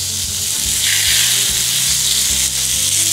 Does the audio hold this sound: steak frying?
yes